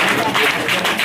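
An audience at a community award ceremony claps, a brief burst of dense, loud applause mixed with some talking.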